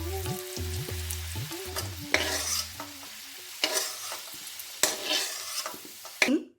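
Sliced potatoes frying in hot oil in a kadai, a steady sizzle broken by repeated scraping stirs of a metal spatula and clanks against the pan, close and fairly loud with no talk.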